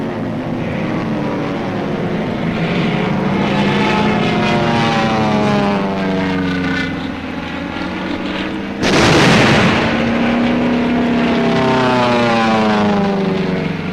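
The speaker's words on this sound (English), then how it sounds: "The support air director contacts carrier planes circling the target." World War II carrier-based propeller planes circle over the target at Iwo Jima, their engines droning loudly and continuously, swelling into a harsher roar partway through as one passes close. No one speaks.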